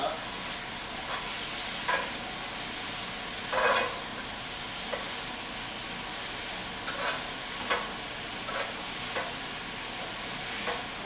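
Onions frying in a pan for a homemade beef donair, a steady sizzle and hiss broken by occasional scraping stirs, close and moderately loud with no voices.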